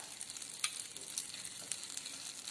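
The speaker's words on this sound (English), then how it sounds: "Again you have to put a generous amount of butter." A generous amount of butter sizzles in a pan while making Mumbai pav bhaji, a faint, steady frying hiss dotted with a few sharp crackles and no talk.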